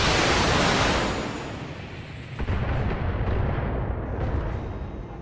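Heavy weapons fire from mechs in the Battletech video game, a loud dense roar of blasts that swells, dips and returns, with no talk over it.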